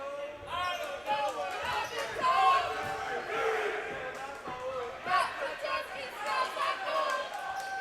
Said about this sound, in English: A little chants coming from the crowd here.